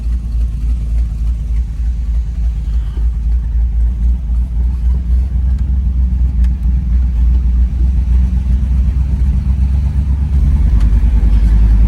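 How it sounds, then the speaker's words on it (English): A 1998 Chevy OBS truck pulls off on a test drive, its engine a loud, deep, steady rumble heard from inside the cab, rising slightly as it gathers speed. "I can tell this truck could get you in trouble because I'm barely giving it any gas and she pulled off."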